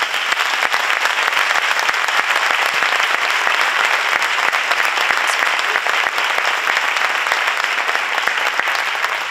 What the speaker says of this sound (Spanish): recibamos con un fuerte aplauso a Boris Izaguirre